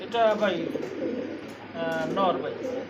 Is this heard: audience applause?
no